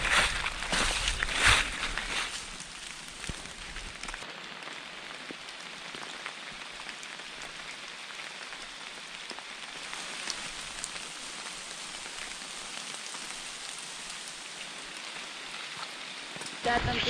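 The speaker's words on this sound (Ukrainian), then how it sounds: "А то, що дощ йде, то ну, ще фігня" Steady rain pattering on the ground and gear during an autumn mountain hike, a soft continuous hiss with a few louder rustles and footsteps near the start and end.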